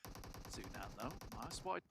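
Rapid automatic gunfire in PUBG Mobile during a competitive esports match, a fast steady burst of shots heard over a voice and game noise, ending with a couple of sharper nearby cracks.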